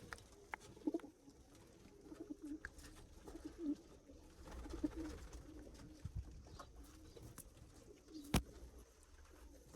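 Pigeons in a loft where some are sitting on eggs and chicks coo repeatedly in low, soft, rolling phrases, quiet and fairly close, with no talking.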